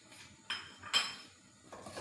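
A utensil clinks and scrapes against a pan as flour is mixed into oil for a white sauce, giving a few faint metallic knocks in a quiet kitchen.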